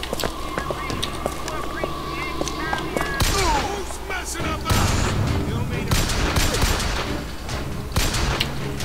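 Pistol fire in the video game BioShock Infinite cracks out in rapid, loud bursts over a busy mix of game sound and voices, with dense volleys in the second half.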